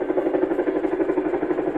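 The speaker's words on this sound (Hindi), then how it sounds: "ये आया चिनूक फिर से दूसरी बार," A Chinook helicopter arriving at Kedarnath, heard as a steady rhythmic thudding drone with pulsing rotor beats, loud and continuous.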